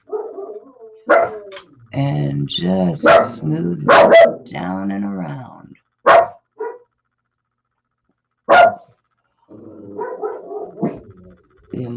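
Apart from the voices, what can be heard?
dogs barking outside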